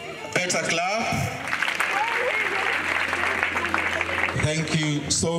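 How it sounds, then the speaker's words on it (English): Audience at a girls' high school event in Nyakach clapping steadily for about five seconds, a dense sustained wash of applause with a voice and tonal sounds over it at the start and end. "Better clap"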